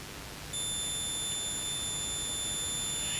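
A continuity tester lets out a continuous high-pitched electronic tone when ground wires on a ham radio jumper cable touch, the steady beep starting abruptly and holding clear over faint background hiss.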